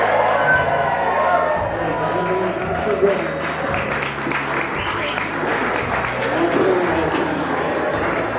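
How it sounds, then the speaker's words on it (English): Wedding guests at a rustic barn reception applaud and cheer after a toast, a sustained wash of clapping and whoops from a sizable crowd that stays loud throughout. "Let's give him another round of applause."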